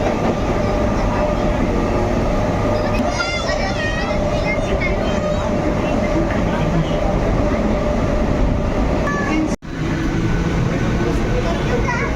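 A Mumbai local train rumbles steadily and loudly from inside a carriage, a continuous roar with faint rattling, briefly cut off near the end.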